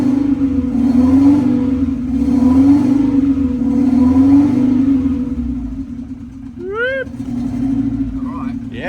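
An old engine with individual throttle bodies, not started in twenty years, idles cold and unevenly with a low throbbing rumble under close conversation, then a few short squeaks near the end.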